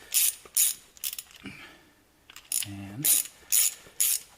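Nut being tightened with a ratchet while building a sled, bursts of quick ratcheting clicks in an uneven rhythm separated by short pauses and a brief spoken word.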